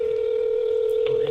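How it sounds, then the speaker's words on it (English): A steady telephone tone hums continuously while a call to a podcast guest is placed, loud and unbroken, with faint room noise behind it. "I'm going to just call him on the phone"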